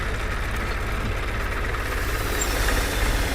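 A tractor fitted with a sprayer pump for cotton fields idles nearby, a steady low mechanical drone with an even rhythmic throb that holds constant throughout.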